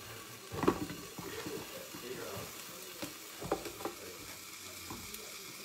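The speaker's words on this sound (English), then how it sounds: "we're gonna get this good and browned" Sausage browning in a pan, a quiet sizzle with scraping stirs and a few sharper pops, faint and close.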